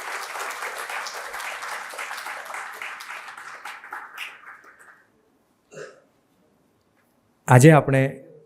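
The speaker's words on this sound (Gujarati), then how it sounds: "આપણે પુનઃ તાળીઓથી મંચને વધાવીએ." An audience at a Gujarati book launch and lecture event claps to welcome guests onto the stage, dense applause that thins and fades out over about five seconds, followed by a short burst of nearby talk.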